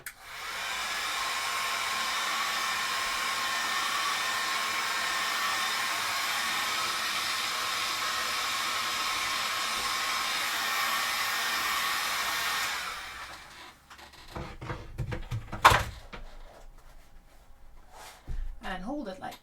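Heat gun warming a cosplay leg armour piece for a Sisters of Battle Warhammer 40k costume, a steady close airy whoosh lasting about thirteen seconds, then cutting off into quiet handling noises and a brief thump.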